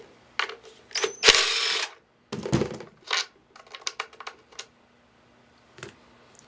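Metal bolts and small washers coming out of a hot tub pump motor, a scattered series of close clinks, rattles and a longer metallic scrape, separated by short silences.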